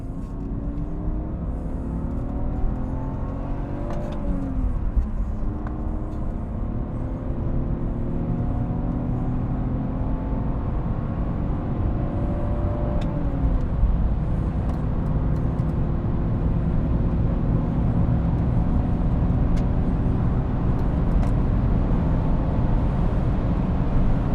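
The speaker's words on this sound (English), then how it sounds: "Here we go, German Autobahn. Let's just get it out of the way and do a top speed run." A BMW E46 325i Touring with a straight-six pulls hard on the German Autobahn toward top speed, engine note climbing steadily through gears with brief shift dips, under continuous loud road and wind roar from inside the cabin.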